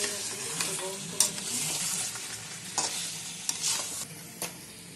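Mutton curry warming in a pan produces a quiet, steady sizzle broken by several scraping stirs and light utensil knocks spaced through the stretch, with no one speaking.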